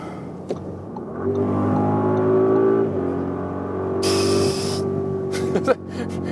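A performance SUV, one of Urus, Bentayga, DBX, RSQ8, Model X or Cayenne Turbo, pulls hard at around 130 km/h on a highway, its engine droning steadily with rising tones over road and wind noise, and a brief hiss of spray partway through.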